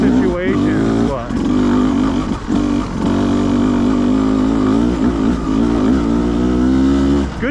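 A Beta 200RR dirt bike engine revs loudly and close in the desert, holding a steady droning pitch with brief dips and surges as the throttle opens and eases.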